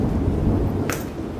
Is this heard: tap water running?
no